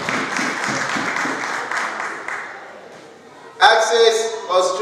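Audience applause at a Yoruba Day 2018 community event in Melbourne, Australia, a steady wash of clapping for about three and a half seconds that fades, then a voice speaking over a loud sound system.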